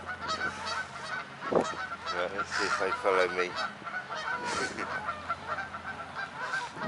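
White geese honking at a bird island park, several loud nasal honks in quick bursts close by, with a person speaking briefly between the calls.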